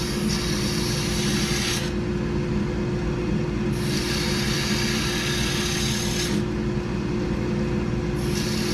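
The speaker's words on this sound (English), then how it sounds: "I'm just going to start cutting away corners here until we get down to the sphere shape" A skew chisel cuts away the corners of a wooden sphere spinning on a lathe. A loud, steady motor drone runs throughout, broken by bursts of hissing, rasping cuts that start and stop every few seconds.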